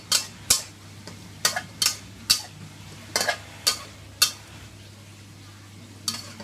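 A sweet and sour stir-fry is stirred in a pan, with a spatula scraping and clinking against the pan in irregular strokes over a low background hum.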